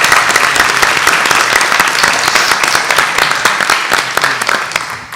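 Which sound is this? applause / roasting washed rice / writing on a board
applause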